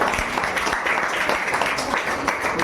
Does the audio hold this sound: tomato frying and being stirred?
no